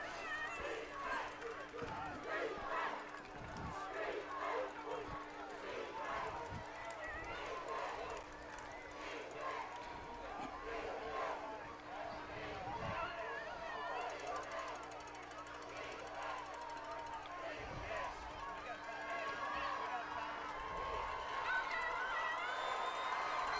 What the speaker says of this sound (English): Looks like that Pascagoula crowd getting loud over there, I see. You can hear them.